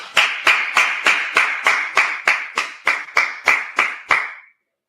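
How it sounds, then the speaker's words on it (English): A group claps in unison, about a dozen loud, evenly spaced beats in a steady rhythm, each with a short room echo, before stopping cleanly into silence. "All right, let's clap it up."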